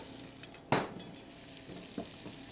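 Chopped onions tossed into a hot pan to start a quick sauce, a soft sizzle with a sharp clatter as they land, then a few small clinks and stirring sounds close by.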